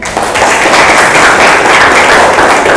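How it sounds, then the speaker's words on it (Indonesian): Classroom audience applauding, a dense, steady burst of many hands clapping close by and loud, lasting a few seconds. "Kasih tepuk tangan dulu buat Ferdi."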